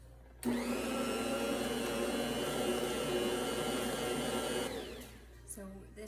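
A stand mixer runs steadily, mixing yeast into a bread dough made with fresh milled flour. It starts abruptly, drones on as a loud, constant whir for several seconds, then winds down and stops.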